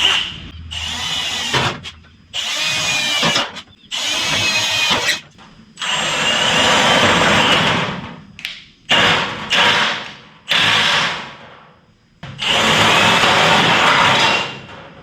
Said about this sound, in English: If you drill faster, it doesn't tear it up as bad.